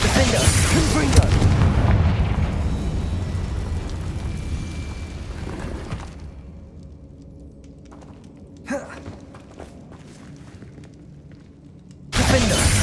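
Spell explosions from Confringo and Bombarda in Hogwarts Legacy, a loud sustained rumbling blast that decays into quieter ambience, with a sharp pop near the middle and a renewed loud burst at the end.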